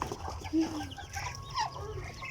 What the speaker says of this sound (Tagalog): Hey, the other chickens, let them go.